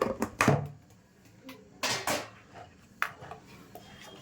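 Malpua batter is beaten in a bowl in a kitchen, a few sharp clinks and knocks of utensil against the bowl at irregular intervals, close and fairly quiet.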